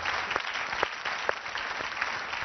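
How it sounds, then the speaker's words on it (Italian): Steady clapping from a television studio audience fills the space, a dense, even patter of many hands with faint sharper claps standing out, no voices over it. "Un grande applauso a questa Marcord."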